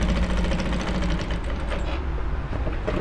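A sewing machine stitches an Ankara fabric top, running steadily and continuously throughout with a fast, even mechanical whir.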